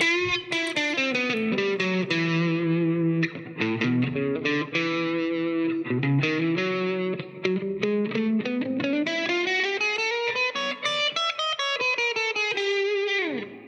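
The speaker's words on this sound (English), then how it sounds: "And then I got distortion set at about 11 a.m." A distorted electric guitar plays a continuous melodic line with sustained, gritty notes and bends, loud and close, with no talking.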